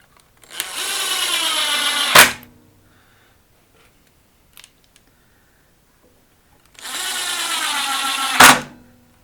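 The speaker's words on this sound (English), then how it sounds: "now I'm going to put those 2 screws in" A power drill driving two screws into a wooden crosscut sled, two loud close whirring runs of about two seconds each, each ending in a sharp bite, with quiet between.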